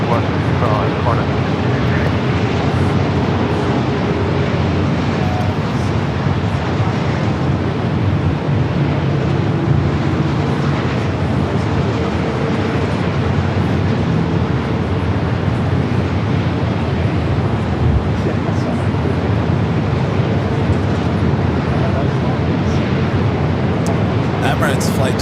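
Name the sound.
Emirates A380 airliner at Los Angeles airport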